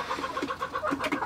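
Sultan hens and a rooster cluck and murmur softly in a coop, a steady run of close, overlapping calls with no talking.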